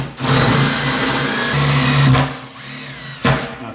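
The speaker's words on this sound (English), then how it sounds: "the drill bit I'm using is made by Diablo, which is an associate company to Bosch" A power drill fitted with a Diablo 4mm bit bores through bathroom wall tile with a loud, steady whine that shifts pitch partway through. It stops briefly, then gives a short final burst.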